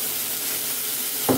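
Chopped onion and tomato sizzle in a pan as a spice masala is added for egg bhurji, a steady frying hiss throughout with a brief louder stir or drop near the end.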